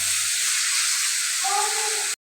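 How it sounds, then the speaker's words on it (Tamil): Tomatoes and curry leaves sizzle in a pan, a steady close hiss that holds for about two seconds, then cuts off abruptly. "தக்காளி பழமும் கருவேப்பிலையையும் போட்டு நாங்கள் வதக்குவோம்"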